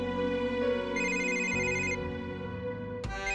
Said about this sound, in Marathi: मी बघते फोन कुणाचा आहे ते.